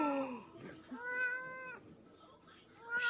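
A cat meows twice in quick succession, clear and close, with stretched, wavering cries and a softer third call near the end, set inside a meme compilation.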